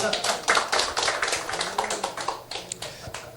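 Clapping from a group after a toast at a gathering, a run of close, sharp hand claps with an uneven beat that thins out toward the end, while a voice speaks underneath.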